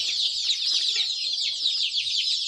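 A dense chorus of young chicks, twenty-two days old, cheeps continuously and loudly at close range, with many overlapping high peeps and no pause.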